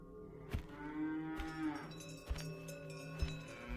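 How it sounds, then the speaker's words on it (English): Cattle mooing as cows cross a road, several drawn-out lowing calls at moderate distance with brief knocks between them, no talk over them. "After the cows had crossed the road and suddenly the path was clear again for Himu and Hansa to walk on"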